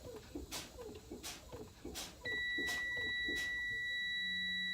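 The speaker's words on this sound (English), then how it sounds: "I want to see if my low air pressure alarm buzzer will sound." A truck's low air pressure warning buzzer sounds as the air brakes are pumped down toward 60 psi, a steady electronic tone that starts midway and holds to the end after a few soft clicks and brake pumping sounds.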